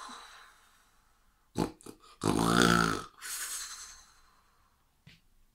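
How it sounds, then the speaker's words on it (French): Ogre snoring in a storybook telling of Le petit Poucet, with a few short rasping snorts followed by one long, loud, rumbling snore and a softer one after it. "Il ronflait si fort que les pauvres enfants étaient terrorisés."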